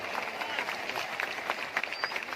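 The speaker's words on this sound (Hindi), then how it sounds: "दोस्तों इस्तेमाल करें तालियां बजाएं शाहिद नूर साहब के लिए।" An audience at a Urdu-Hindi mushaira poetry recital applauds, a fairly quiet patter of scattered claps from a moderate crowd.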